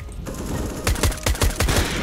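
Warning gunshots in CSGO, a short rapid string of about eight sharp shots fired in quick succession, fairly close, with no talking.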